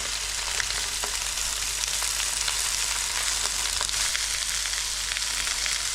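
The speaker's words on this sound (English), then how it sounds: "I'm just going to stir fry these very nice and wilted" Pak choy stir-fried in a hot pan gives a steady, dense sizzle and crackle that holds at an even level throughout, close and continuous with no talking.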